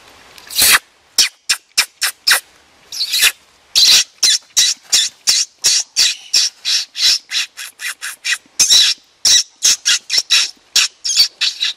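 Loud, rapid squeaky kissing sounds made against a hand, repeated in quick bursts that mimic a chattering squirrel call, outdoors in the Maine woods.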